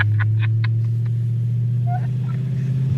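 A 6-cylinder Ford Thunderbird engine with a welded rear end idling steadily in winter, a loud close low rumble with a faint rhythmic pulse, while a few short voice sounds come over it.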